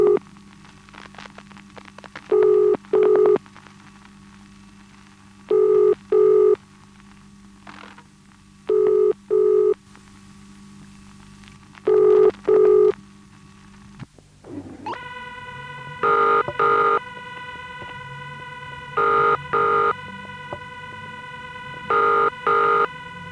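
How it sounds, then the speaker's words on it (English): British telephone ringing tone from a 1971 Waterloo 928 exchange, feeding back down the line: loud, evenly spaced double-burst rings over a low buzz, shifting midway to a brighter, harsher multi-tone ring that repeats in the same cadence. "the ringing is feeding back into the machine"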